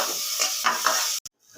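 Onions fry with sugar and bay leaf in a pan, a close, steady hiss with brief stirring swells that cuts off abruptly into near silence at the end.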